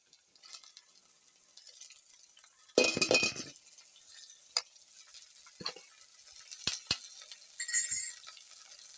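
Amaranth leaves (thotakura) tipped into a hot frying pan set off a sudden loud sizzle that fades, followed by scattered clinks of a spoon against the pan as the greens are stirred, with no voices.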